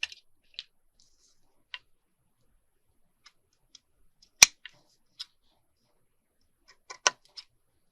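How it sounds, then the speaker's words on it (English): Scissors snip off the end of a fabric tag in a quiet room, giving sparse sharp clicks and one louder crisp cut, close and isolated with no talking. "then we have to cut this end off"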